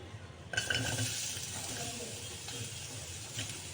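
Onion frying in a hot kadai of oil, a sudden burst of sizzle after a brief quiet start, then a dense steady hiss with ratcheting spatula scrapes, close by and without speech.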